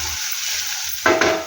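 Methi matar curry in a pan, a soft steady sizzle with a faint hiss, then two sharp spatula scrapes against the pan near the end as the mix is stirred.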